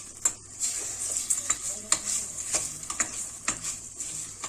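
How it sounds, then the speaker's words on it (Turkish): Boiled chicken sizzles steadily in oil in a pan while a utensil turning it scrapes and clinks irregularly against the pan, close and fairly quiet. "Şimdi de biraz kızartıyorum."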